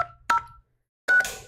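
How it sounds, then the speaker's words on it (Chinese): A phone number is dialed to reach a prize winner: three or four short keypad tones in an uneven rhythm, fairly quiet and close, with no talking. "陈小姐来看陈小姐会接电话呢。"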